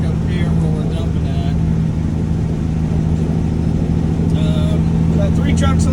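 Heavy dump truck engines rumble steadily at a new airport runway construction site, a continuous loud low drone with trucks lined up on both sides, while someone talks over it.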